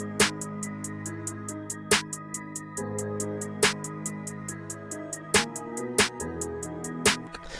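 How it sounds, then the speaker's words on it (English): Memphis-style beat with rapid, evenly ticking hi-hats and sharper snare hits landing in a bouncy two-step pattern over a soft sustained bed, fairly quiet and with no voices. "So with the hi-hat and the snares, it sounds like this."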